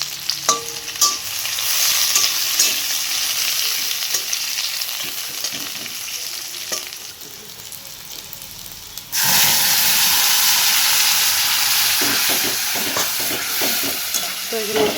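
Chopped onions fry in a little oil with a steady, close sizzle and hiss that grows abruptly louder and brighter partway through, with occasional stirring clatter and no talking.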